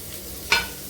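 Onions dropped into hot oil with garlic and ajwain for chickpea-leaf saag, giving a single sudden sizzle burst midway that lingers briefly over a steady low frying hiss.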